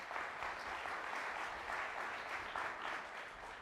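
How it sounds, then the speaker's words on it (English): Conference audience applause in a hall, a dense, steady wash of many hands clapping, fairly distant and even throughout, with no talk over it. "Let's give them a big round of applause."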